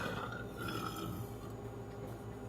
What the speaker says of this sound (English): I didn't mean to belch, but it came out